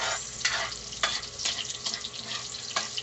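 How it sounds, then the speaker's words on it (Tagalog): Garlic and onion sautéing in a pan for Filipino kaldereta, a continuous moderate sizzle punctuated by regular metallic taps and scrapes of a spatula stirring. "Inisa na natin sa bawang sibuyas."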